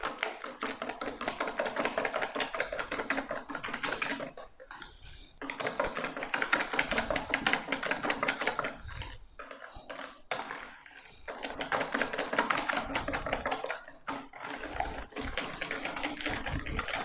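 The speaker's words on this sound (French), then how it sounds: "Ensuite une tasse de lait. Et comme ça, nous allons commencer à remuer." Crêpe batter of flour and milk being whisked in a bowl, rapid rhythmic tapping and scraping in bursts with brief pauses between, close and fairly quiet, no voices.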